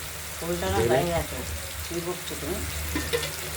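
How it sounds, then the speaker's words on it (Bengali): Stuffed ash gourd slices, filled with a poppy seed, melon seed and raisin paste, fry in hot oil, giving a steady close sizzle with bubbling crackle that runs without a break under a voice speaking. "চাল কুমড়োর একটা পিঠ আপনারা দেখছেন ভাজা হয়ে এসেছে লালচে ভাব হয়ে এসেছে"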